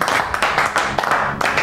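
Studio audience applause on a television show with a hypnotist guest, a short burst of dense, steady clapping that is close and loud.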